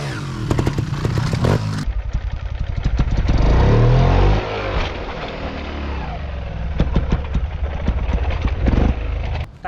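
A trials motorcycle engine revs and pops close by as the bike climbs and drops over steps, with sharp throttle blips, a sustained roaring surge in the middle, then choppy bursts again.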